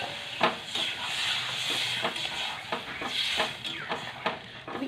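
Lentils being stirred in a cooking pot, a steady scraping and rubbing with repeated stroke clicks over a soft sizzle, close and moderately loud.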